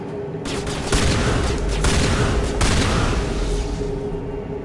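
Loud, heavy shotgun blasts boom repeatedly in a Mass Effect Legendary Edition firefight, several close shots in quick succession over continuous rumbling game noise.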